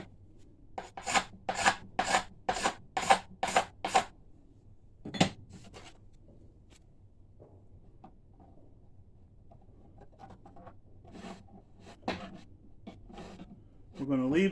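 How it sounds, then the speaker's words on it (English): A steel scraper rasps along a hickory self bow, roughly nine quick broadband strokes in a steady rhythm up close, then a sharp scrape and a long stretch of quieter handling and fainter scrapes. "We're going to scrape through here just a little bit because it's got a rough"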